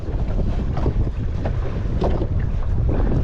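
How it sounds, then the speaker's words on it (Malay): Wind blows over a small fishing boat out at sea during grouper fishing, giving a loud, continuous buffeting rumble with gusty surges and no voices. "angin ni tolak"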